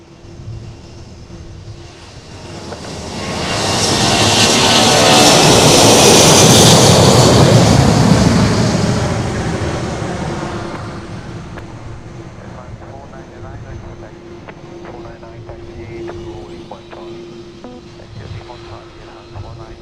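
A Delta jet airliner bound for Atlanta takes off from runway 10 at Princess Juliana Airport near Maho Beach, its engines swelling to a loud, broad roar that peaks midway and then eases off into a lingering distant rumble.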